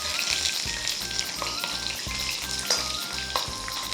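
Fish pan-frying in a new iron wok, a steady loud sizzle with crackling spatter throughout and no talk.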